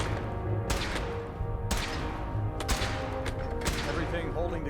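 Weapon fire in Fallout 4, a few sharp cracks spaced a second or so apart over a steady background, with voices talking throughout.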